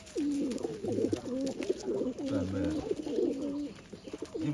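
Several pigeons, including Chikun breed hens, coo in overlapping throaty rolls after being fed, close and continuous, with a few faint clicks near the end.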